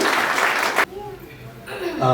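Guests at a Nepali wedding ceremony clap together in a brief, loud burst of applause that cuts off abruptly, followed by a voice talking.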